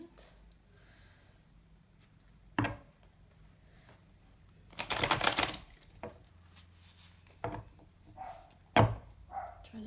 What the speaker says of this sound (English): Trying to shuffle these without blowing out the candles.